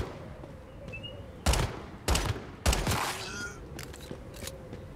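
Gunfire in the video game Once Human: three sharp, loud bursts of shots spaced about half a second apart, then a few fainter pops over a low steady hum.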